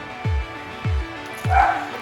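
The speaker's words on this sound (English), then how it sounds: "So unfortunately, you're hearing Quinn barking at another dog." A dog named Quinn barks three times at another dog outside, sharp evenly spaced woofs close by with a faint whine after the last one.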